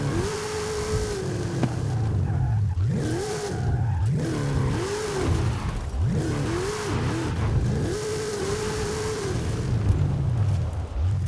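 Dodge Super Bee in Forza Horizon revving hard in a drag launch attempt, engine pitch climbing and dropping in repeated surges over a steady low rumble, loud and close, with no talk.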